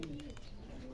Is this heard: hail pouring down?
no